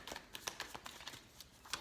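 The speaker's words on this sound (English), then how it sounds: "I'm going to continue a little bit with shuffling" Tarot cards are shuffled by hand at close range, a quiet, irregular run of soft papery riffles and slaps with brief pauses between bursts.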